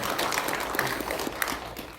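Audience applause at a citizens' public hearing on open primaries, a steady crowd clapping lasting about two seconds in a hall.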